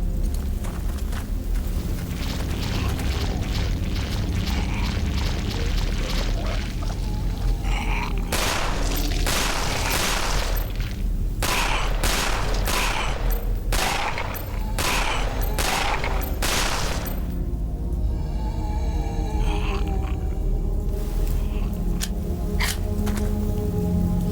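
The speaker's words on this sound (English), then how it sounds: "Some more grenades." Grenade explosions and gunfire in the shooter Out of Hell, a loud burst of rapid shots and booming blasts in the middle over constant background game noise, with scattered bangs before and after.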